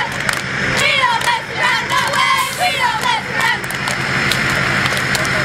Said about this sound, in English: They're trying to out cheer me here